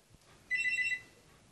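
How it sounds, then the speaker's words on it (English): A telephone rings in one short electronic burst, a bright multi-tone trill lasting about half a second, loud against a quiet room. "That's your telephone ringing."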